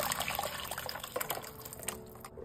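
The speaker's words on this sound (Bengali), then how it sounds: "ব্লেন্ড করে নিয়েছি, এবার ওটাকে ঢেলে নিলাম।" Blended tomato and onion poured into a pot for tomato soup, a close, wet, uneven glugging and dribbling that thins out toward the end, with no talking.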